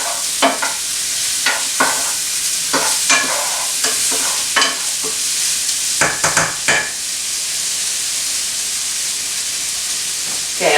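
Kielbasa sausage fries in a pan on low to medium heat, giving a steady close sizzle and hiss with occasional louder pops and stirring scrapes; no one talks.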